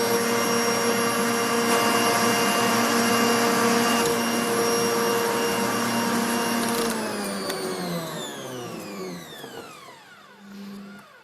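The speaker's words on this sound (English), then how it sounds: "that's now going to take about 10 minutes to whisk up and become a lovely sort of voluminous mousse" An electric whisk beats lemon mousse with a loud, steady motor whine that holds for several seconds, then winds down in falling pitch and stops, with a brief faint sound afterward.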